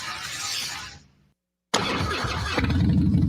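A popular American motorcycle engine runs loud and close, cutting out briefly to silence and then roaring back with a rough, throbbing rumble that grows heavier toward the end.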